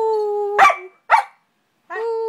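A pet dog gives two sharp barks close to the microphone, a short gap between them, over a steady electronic hum.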